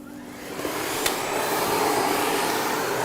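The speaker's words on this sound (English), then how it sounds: "Once the brush is clicked into position, you can start vacuuming." A Miele Blizzard CX1 bagless canister vacuum with its parquet brush starts up and settles into a loud, steady rushing whir, close and alone.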